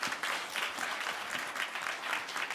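Audience applause for a speaker at a foundation panel event, steady dense clapping from a crowd filling the whole stretch at moderate level, with no talk over it.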